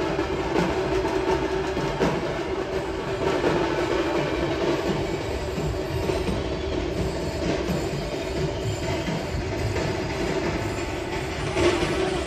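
The Harangul–Pune Express runs at high speed with a continuous loud rumble, rattling carriage clatter and occasional wheel squeals, steady throughout with no voices.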